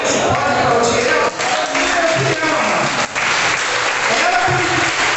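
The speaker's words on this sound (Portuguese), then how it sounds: "Tem como dar uma palma para essa palavra? Você pode aplaudir ela?" A church congregation applauds loudly and steadily, a dense wash of many hands clapping for several seconds with brief dips, close and full throughout.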